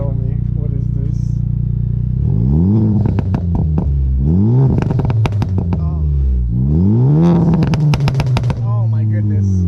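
A tuned Honda Civic Type R FK8 revs loudly up close in repeated rising bursts, its exhaust crackling with sharp pops and bangs on the overrun between pulls.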